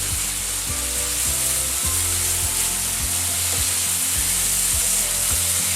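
Crumbled sausage meat sizzles and fries steadily in a pan, a loud continuous crackle with repeated scraping stir strokes every half second or so, close up and with no talking.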